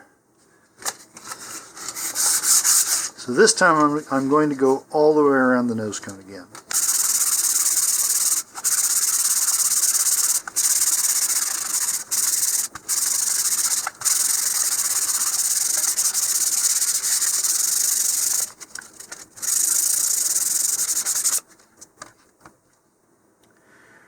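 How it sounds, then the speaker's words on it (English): Steady rasping strokes of 220 grit sandpaper smoothing a model rocket rub on and off in long bursts, with someone briefly talking early on between passes. "now I'm going to use 220 grit sandpaper to smooth everything out."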